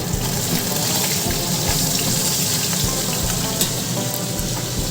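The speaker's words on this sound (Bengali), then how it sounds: "এখানে যে মাছ ভাজা করছি" Fish frying in a home kitchen pan gives a steady, close hiss and sizzle with a running-water quality, lasting throughout without talk.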